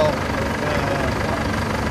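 A 1060 Nuffield tractor engine runs steadily, driving a machine, with a dense, continuous rumble and clatter that is loud and close, with no break over the two seconds.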